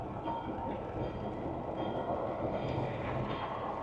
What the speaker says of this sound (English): We've got a train coming through.